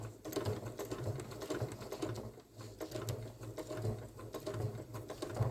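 A Janome Inspire sewing machine stitches over a zipper on a crossbody bag, giving a quiet, steady rhythmic whirring with regular needle thumps and no talk.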